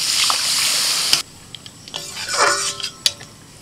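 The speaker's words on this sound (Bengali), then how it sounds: "এবার আমি জল দিয়ে দিচ্ছি।" Water poured into a pan of fried onion and spices for a rohu fish curry, a hissing splash that gives way to gurgling, bubbling sizzle and a few metallic clinks.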